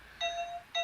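Phone notification chime, two quick bright tonal dings in succession, clear and close over faint background hiss, with no talk.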